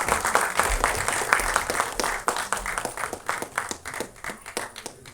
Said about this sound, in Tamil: பலத்த கைத்தட்டல் கொடுக்கலாம்.